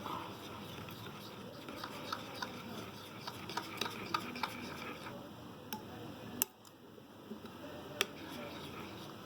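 A spoon stirs raita, yogurt mixed with cumin, in a bowl with soft repeated scraping and squishing close by. A few sharper clicks come near the end.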